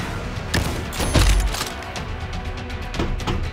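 Gunfire from a shooter video game: several sharp close shots and a heavier boom early on, followed by quicker, lighter bursts, with a low rumble under the whole stretch.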